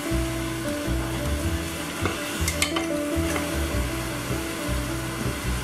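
Spoon stirring homemade seasoning into chicken in a pressure cooker pot, soft scraping and sizzling under a steady hum of background music, no voices.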